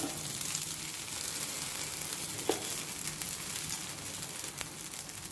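Paniyaram batter sizzling in a hot paniyaram pan, a steady close frying hiss throughout with a few small pops and crackles, and no talking.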